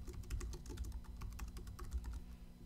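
Soft, rapid keystrokes on a computer keyboard as an assignment title is typed, an even patter of close clicks over a quiet low hum, without speech.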